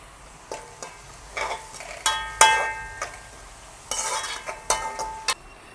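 Leeks and curry leaves sautéing in a pan for chicken aval kothu: close, irregular bursts of spatula scraping and tapping against the pan over a soft background sizzle.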